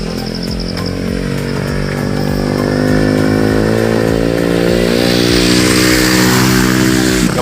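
A motorcycle engine drones loud and close on a mountain road, holding a steady buzzing note with a slight rise in revs as it passes, alone without talk.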